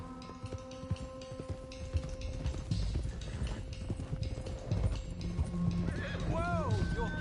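Horses in Red Dead Redemption 2 clop along a trail with loose, uneven hoofbeats while a clear neigh and whinny ring out near the end, and faint voices murmur underneath.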